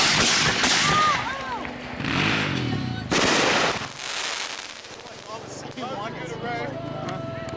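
Fireworks bursting outdoors at a casual gathering, several loud crackling booms and rapid popping volleys in quick succession, with people's voices and whoops mixed in among the explosions.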